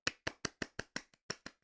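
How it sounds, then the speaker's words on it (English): A single person claps by hand, eight or nine sharp, close claps at an even quick pace with silence between them, the last couple slightly softer. "Let's stop for a moment and applaud."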